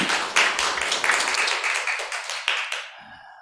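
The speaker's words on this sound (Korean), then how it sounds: "우리 하나님께 영광의 박수 올려드리겠습니다" A church congregation applauds together in a burst of dense, energetic clapping that stays steady for about three seconds, then stops abruptly and leaves a short quiet tail.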